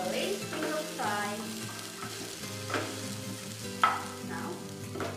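Okra (ladies finger) frying in a pan, giving a steady soft sizzle with occasional stirring scrapes and clinks, fairly close and at low volume.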